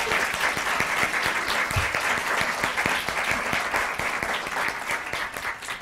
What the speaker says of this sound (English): Let's give these ladies a very big round of applause.